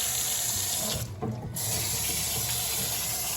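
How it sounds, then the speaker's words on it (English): Tap water runs steadily over strawberries being rinsed in a kitchen sink, a continuous close splashing hiss that dips briefly for a moment before resuming. "we're gonna rinse off these strawberries"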